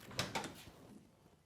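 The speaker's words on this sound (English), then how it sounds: "Doors open and close." Doors on a Chevy Nova project car during a restoration build swing and latch, giving a few faint, quick knocks and clunks in a quiet space, with no voices over them.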